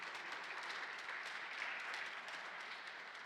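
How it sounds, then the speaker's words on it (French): A church congregation applauding the children receiving their first communion at a Holy Family Mass, a steady wash of many hands clapping, moderately distant and fairly soft, continuing evenly throughout. "on les applaudit."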